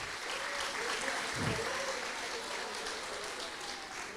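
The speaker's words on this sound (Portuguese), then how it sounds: "Essas palmas é para o nosso pastor que voltou em paz" Steady applause from a church congregation welcoming their pastor back, continuous and somewhat distant, with voices murmuring faintly underneath.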